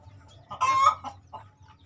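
A hen clucks inside a poultry coop where eggs are being incubated, giving a few short, close clucks with a louder central burst and soft trailing notes.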